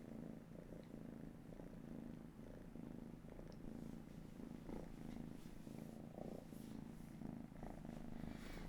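A cat purring steadily close to the microphone, a soft continuous rumbling pulse that goes on without a break over low background hiss.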